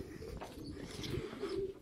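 Racing pigeons settling at a loft after a race, with soft repeated cooing and low bird calls close by, steady and moderately quiet with faint background rustle.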